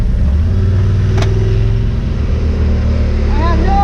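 A Yamaha Wolverine X4 side-by-side fitted with a Hunterworks sheave drives a narrow wooded trail, its engine a steady close drone with wind rush throughout, a voice talking over it.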